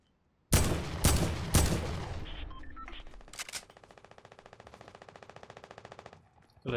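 Submachine gun fire in Fortnite: three sharp, loud bursts up front, then a lighter, steady stream of rapid clicking shots that fades out before one more burst at the end.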